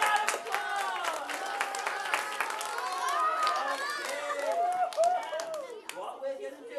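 Light clapping and cheering from a live-event audience welcoming a volunteer on stage, mixed with lively chatter, children's voices and a presenter talking over it throughout.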